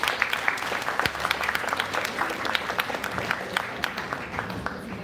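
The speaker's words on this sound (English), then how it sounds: "Please join me in welcoming Swati ma'am with a big round of applause." An audience claps to welcome a guest at a women's college foundation day event, with dense, steady applause of moderate volume throughout and scattered sharper individual claps.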